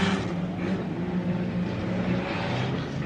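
Off-road race cars at a rock-crawling stampede race roar out onto their second lap, producing a loud, steady engine drone throughout with no talk.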